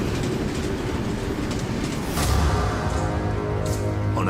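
Diesel-electric locomotive with four electric traction motors hauling a train on an icy mountain railroad, a steady loud rumble of rolling wheels and engine that grows heavier about halfway through, with faint rhythmic rail clatter.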